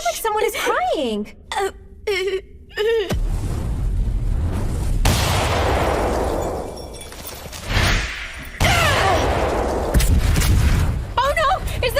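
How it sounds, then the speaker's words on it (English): A building explodes in an English-dubbed anime, heard as a long, heavy rumbling roar with a second loud blast near the end, and a voice talks briefly at the start. "Oh no! Is the building exploding?"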